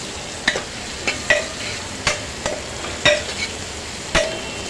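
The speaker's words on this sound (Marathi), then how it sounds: "आणि आता भरलेले गिलके घालणार आणि छान असं तेलावर परतून घेणार" Stuffed ridge gourds sautéing in oil with chopped coriander, a low steady sizzle punctuated by about eight sharp clinks and scrapes of a spatula against the pan at an uneven pace, close and without talk.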